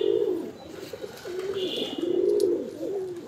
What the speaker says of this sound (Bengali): নতুন কবুতর বন্ধুরা দেখলে ডাকাডাকি করে